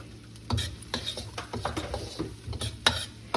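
Frying in a pan for tilapia fish curry, soft sizzling broken by scraping and clinking of a utensil stirring against the pan, close and quiet, no speech.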